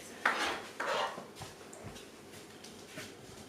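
A small spoon scoops from an opened jar while tacos are being made, giving two brief scraping clinks close by, then quiet faint handling noises.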